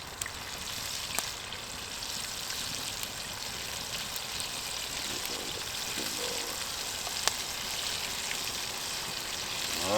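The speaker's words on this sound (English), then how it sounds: "Frying along fine." Chicken pieces deep fry in hot oil over a campfire, giving a steady, even sizzle and crackle throughout with occasional small pops.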